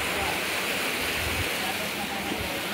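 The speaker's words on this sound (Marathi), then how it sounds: "आमची स्विमिंग पूल कसं मस्त धबधबा आहे." A waterfall pours into a swimming pool with a dense, steady rush of water that stays loud and unbroken throughout.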